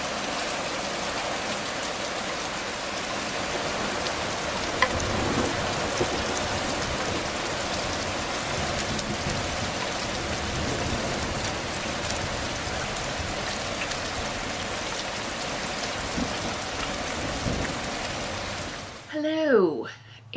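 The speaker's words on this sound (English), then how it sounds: "It's raining!" Steady rain falls outside in a dense, even hiss that runs the whole way through, and a voice briefly speaks at the very end.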